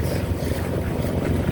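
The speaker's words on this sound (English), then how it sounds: "As I thought, the wind's right in my teeth here." A boat motoring into a strong headwind near Saturna and Tumbo Island, with choppy water. Steady, dense low rumble of engine and wind buffeting runs throughout, loud and unbroken, with no voices.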